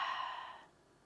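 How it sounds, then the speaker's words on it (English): A single soft open-mouth exhale during a beginner power yoga flow, breathy and close, fading away over about half a second into quiet. "Breathe in through your nose and open mouth exhale."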